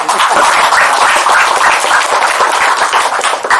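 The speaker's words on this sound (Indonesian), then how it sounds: "Sekali lagi tepuk tangan untuk Prof. Bagja." An audience at a seminar session applauds a professor after his talk, loud, dense and sustained clapping from many hands filling the whole stretch without letup.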